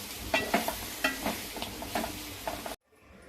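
Chicken fry sizzles in a pan while being stirred, with rhythmic scraping strokes over a steady crackle, and the sound cuts off abruptly near the end.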